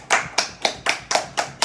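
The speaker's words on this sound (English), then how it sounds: "Applause for men like Marcelo." Seven sharp hand claps in an even, quick rhythm, close and clear with no voices.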